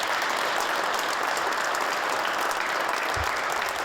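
A crowd applauds and cheers for four firefighters climbing a ladder at a swearing-in event, steady dense clapping throughout with a brief low thump near the end.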